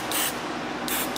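Black hair color spray is sprayed during a high taper haircut in two short, close hissing bursts separated by a brief pause, with no talk over them.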